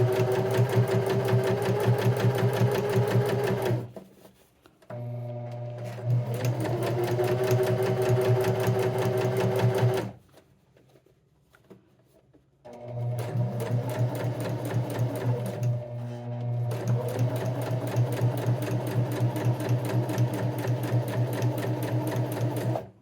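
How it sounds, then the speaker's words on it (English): Sewing machine stitching a silk tarot pouch in two long runs, a steady close mechanical whir with quick rhythmic clatter, broken by a short pause and then a longer near-silent gap before stitching resumes. "So I'll go ahead and sew this one."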